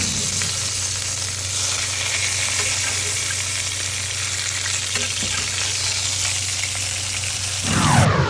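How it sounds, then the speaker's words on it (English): Steaks sizzle loudly in a pan as hot beef tallow is spooned over them, a dense, steady frying hiss with a brief surge near the end. "Just taking that tallow, putting it over the steaks."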